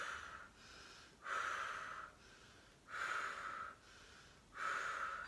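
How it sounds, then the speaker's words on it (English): Rhythmic breaths, as practised for labour contractions, come in paced in-and-out cycles of about one and a half seconds each, close and clear with nothing else heard. "So when a contraction, obviously the breathing will get faster,"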